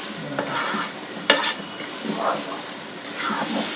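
A spoon stirring khichuri (bhuna khichuri, with lentils and rice) in a pot, with scraping strokes over a steady sizzle of frying, close and fairly loud, with no voices.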